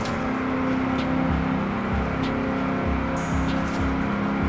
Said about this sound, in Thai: แต่คุณฟังจากเสียงเครื่องดี รอบเครื่องขึ้นช้ามาก ๆ รอบเครื่องขึ้นช้ามากนะครับ